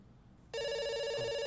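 After a quiet moment, a telephone in the game Dr. Langeskov, The Tiger, and The Terribly Cursed Emerald starts ringing and keeps on with a loud, unbroken electronic trill, no voices over it.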